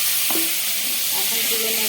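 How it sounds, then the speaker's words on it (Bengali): Small shrimp fry in hot oil, giving a brief, even sizzle with a faint stir partway through. "চিংড়ি মাছগুলো আমার ফ্রাই করা হয়ে গেছে, হালকা ফ্রাই করবো"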